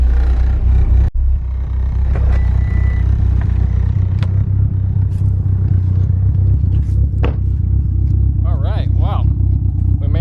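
Turbocharged DSM car on a drive, a loud continuous low engine rumble from inside the cabin with a sharp knock early on and brief higher whines and chirps near the end, no voices.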